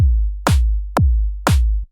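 Programmed GarageBand dance beat: a deep, booming electronic kick drum hits four times at an even pace, about two per second, with brighter snare-like attacks layered on some hits, loud and alone.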